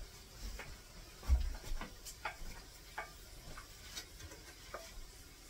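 Potatoes being stirred into frying hamburger hash in a pan, with a steady quiet sizzle under repeated soft scraping strokes of a spoon, close and moderately faint, no talking.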